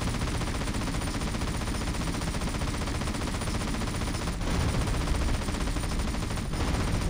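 Rapid, sustained automatic gunfire from weapons in GTA San Andreas rattles continuously as a dense, even stream, with a couple of brief gaps near the end.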